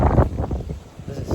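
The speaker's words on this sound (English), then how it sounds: "It is windy today" Strong wind gusts buffet the microphone outdoors on a sunny day in Bali, a loud low rumble that rises and falls without pause.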